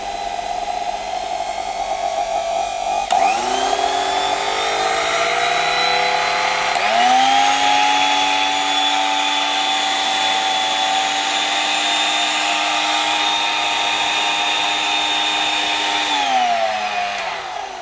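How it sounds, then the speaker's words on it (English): A 1990 Kenwood Powermix food mixer runs steadily at low speed, a loud close motor whine with a brief click at switch-on and a rise in pitch a few seconds later, holding even until it winds down near the end. "we can plug in and see if this 1990 Kenwood mixer actually works"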